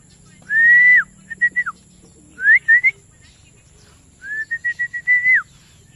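Racing pigeons returning to the loft during a training toss, with several clear whistled chirps and calls in short bursts and rapid repeated notes, close and distinct over a quiet background.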